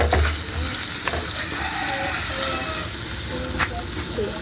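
Sautéed papaya sizzles and crackles in a hot pan while a utensil scrapes and stirs it, a steady frying hiss up close.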